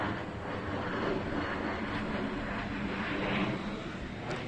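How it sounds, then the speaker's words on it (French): Aircraft that sound like warplanes pass overhead outdoors in a steady broad engine roar that swells slightly over several seconds, with no talk heard. "il y a des avions chelous qui passent depuis tout à l'heure là."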